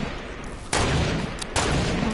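Video game gunfire cracks out in two sharp, loud shots almost a second apart, each followed by a short rumbling tail over steady background noise.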